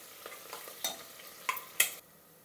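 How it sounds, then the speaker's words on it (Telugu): Onion with green chillies fries in a kadai, a low sizzle punctuated by a handful of sharp spatula scrapes and clacks, the loudest near the end before the sizzle settles. "ఉల్లిపాయ వేగిందండి"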